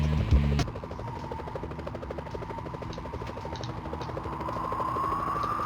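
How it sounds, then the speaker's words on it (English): Police helicopters in the Nintendo 64 game Spider-Man 64 give off a steady rotor drone that holds throughout, led by a brief louder burst at the start, with no talking. "Whoa, police choppers."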